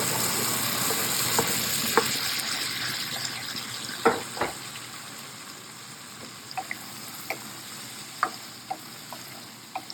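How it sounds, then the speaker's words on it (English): Tomatoes fry in a pan over lowered gas for a vegetable korma, making a steady sizzle with scattered pops and stirring clicks. No one speaks. "we'll lower the gas and we'll put in the tomatoes"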